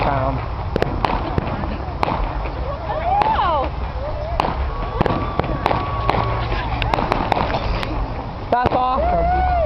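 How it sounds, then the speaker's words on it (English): Fireworks going off nearby in a rapid run of sharp bangs and crackles, with rising whistles and a long hiss between the bursts, while people react and talk over the blasts. "There's a guy behind us doing fireworks."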